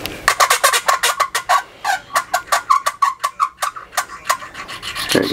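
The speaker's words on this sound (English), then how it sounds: "this is what lapping would be if I had some sort of abrasive compound." Titanium valve from a 2020 Yamaha YZF-R1 head being lapped dry against its seat without abrasive compound, a close, rapid series of scratchy rubbing strokes with a squeaky, gobbling texture, steady rhythm, no talk.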